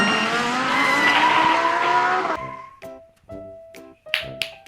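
Toy cars, including a construction-vehicle toy and a pirate car, race on a track with a loud revving whine and screeching skid effects, then stop-start bursts of engine tones and clicks near the end.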